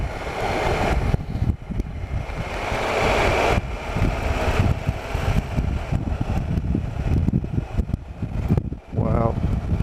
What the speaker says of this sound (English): Just open this visor up a little bit, get a bit of wind noise,